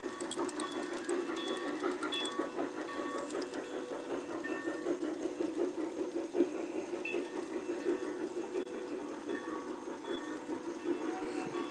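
A G scale model train rumbles along its track with a continuous mechanical whir and faint clicking, steady and moderately quiet throughout.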